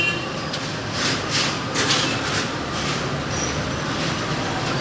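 A moving passenger train on the Dhaka to Kushtia route, heard from inside a chair car as a continuous loud rolling rumble with a steady hiss and faint clatter throughout.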